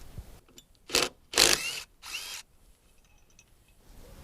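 A tool loosens the old hinges on a Jeep tailgate in three or four short, loud bursts of rapid clicking, close by, with quiet gaps between them.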